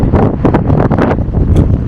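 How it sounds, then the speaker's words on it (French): Steady wind gusting across a beach in Tangier, a loud continuous rushing roar buffeting the microphone with surging swells throughout and no voices. "Par contre, il y a du vent"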